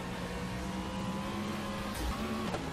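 Car drifting in a racing video game, a steady revving engine whine that holds its pitch and then shifts briefly, loud and continuous with a short scraping burst near the end.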